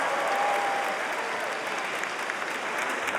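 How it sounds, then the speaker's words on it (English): A large arena audience at a live comedy show at Madison Square Garden breaks into sustained applause, a broad, even wash of many hands from a distance. "Okay, round of applause."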